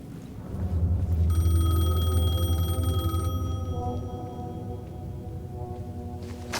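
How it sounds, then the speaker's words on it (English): A payphone rings in the video game Alan Wake II, its bell-like tone repeating steadily over a low, loud rumbling ambience, with the ring fading slightly toward the end. "The payphone was ringing."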